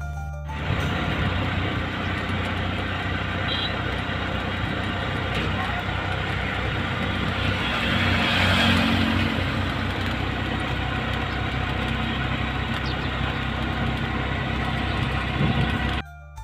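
A vehicle travelling along a desert road in Rajasthan toward Deshnok, with a steady, loud engine drone and road rumble that hold for the whole stretch, while a person speaks over it.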